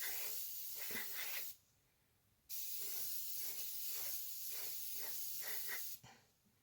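Spray paint hisses onto a Tamiya 1/48 scale BA-64B armoured car model kit in two long, steady bursts separated by a short pause, close and continuous.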